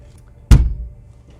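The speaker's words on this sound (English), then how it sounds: "A big thud for the boot." One heavy, close thud of a Japanese import car's boot lid slammed shut at a car auction, low and solid, followed by quiet.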